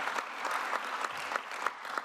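An audience at a conference closing plenary applauds, a continuous mass of clapping with a few sharper individual claps poking through, steady and moderately loud throughout.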